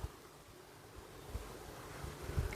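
A stream flowing beside a countryside house near an apple orchard, heard as a soft, steady rushing wash with faint wind, fairly distant and low in level, with a few small thumps near the end.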